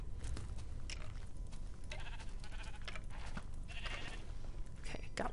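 Sheep in the video game Minecraft TerraFirmaCraft bleat several times over a noisy, dense game soundscape, the nasal cries repeating close by in short bursts.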